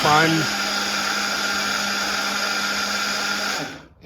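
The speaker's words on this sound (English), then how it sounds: "Not nearly as good as this Blender X." A Blender X cordless blender whirs steadily while mixing a powder drink, a constant close motor hum that ramps up at the start and cuts off near the end.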